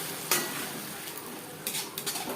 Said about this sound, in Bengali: 3-4 মিনিট পেঁয়াজ ভেজে নেওয়ার পর দিয়ে দেবো মশলাতে।